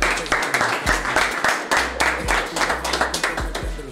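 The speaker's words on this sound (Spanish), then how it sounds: "aplauso" Applause at a combat-sports weigh-in, uneven clapping bursts over a booming bass beat from the venue sound system, with some voices mixed in.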